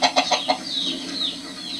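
A few quick clucks from a chicken in a holding pen, followed by a longer squawking call, close and fairly loud with no talking.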